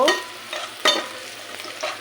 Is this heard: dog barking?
no